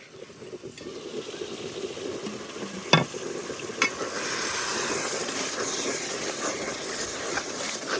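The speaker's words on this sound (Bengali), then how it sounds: "এখন মশলাটা একটু ভালো করে কষাই নিও" Masala of dry chilli powder, salt and cumin powder is sautéed in a pan, making a continuous close sizzle. A stirring scrape and a couple of sharp clinks stand out, and the frying hiss swells toward the end.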